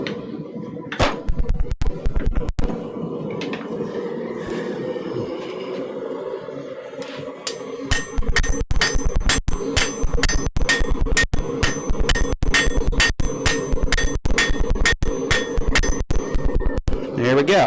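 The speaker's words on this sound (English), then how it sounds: "And with a hammer that would do the job better." Hammer blows on hot metal in a blacksmith's smithy: sparse strikes at first, then a steady run of sharp, ringing clangs at a regular pace with a faint background hum.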